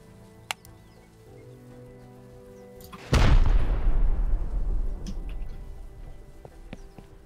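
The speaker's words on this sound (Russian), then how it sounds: "То есть ракетами, наверное, выгоднее всего пробить." Rocket explosion raiding doors in the Rust video game: after quiet background ambience and a faint click, one loud close blast erupts and rumbles away over several seconds.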